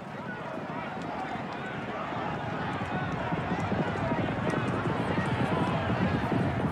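A royal derby horse race in which racehorses gallop past the rails, a dense and continuous rumble of pounding hooves that builds slightly in loudness, with a voice narrating over it.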